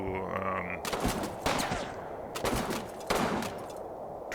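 Gunfire erupts in Combat Mission Final Blitzkrieg, several loud, sharp volleys in irregular bursts, close and dominant, with only faint speech in the background.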